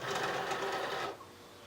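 A Cricut cutting machine whirs briefly as it loads a cutting mat holding green cardstock, a close mechanical motor sound that stops after about a second.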